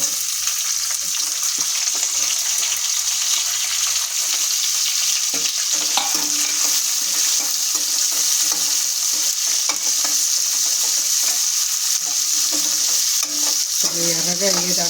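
Cumin and onion frying in oil for a mint chutney: a loud, continuous hissing sizzle with stirring scrapes throughout, close and unbroken for the whole stretch, no speech.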